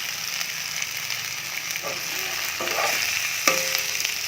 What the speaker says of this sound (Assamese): এতিয়া জুইডাল কমাই লৈ 7 মিনিট সময় ভাজি ল'ম। ফুলকবি 7 মিনিট সময় ভাজি ল'লোঁ।